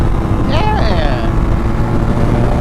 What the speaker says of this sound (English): Oh my God, that upshift though.